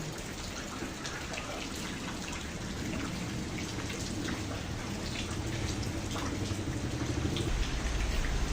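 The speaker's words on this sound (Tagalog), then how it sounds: "na walang tigil ang ulan dito sa lugar namin" Steady drizzle falls continuously, a dense wash of patter and drips throughout, fairly close and even, with no voices.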